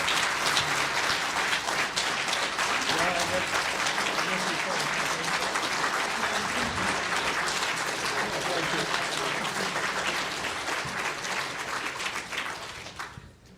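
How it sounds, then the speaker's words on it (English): Sustained audience applause at the Sask Prosperity Project summit in Saskatoon, a dense, steady roar of many hands clapping that carries on for over ten seconds before tapering off, with crowd voices mixed in. "we should stand up and give another round of applause for you guys"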